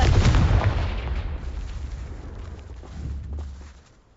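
A Confringo spell blast in Hogwarts Legacy lands as a loud, deep explosive boom that rolls on as a low rumble for a few seconds, swells slightly again, then fades out.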